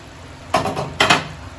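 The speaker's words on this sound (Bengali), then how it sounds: "এবার আমি ঢাকাটা তুলে নিচ্ছি" A metal lid lifted off a pot of prawn and potato curry, two close clanking knocks about half a second apart, alone.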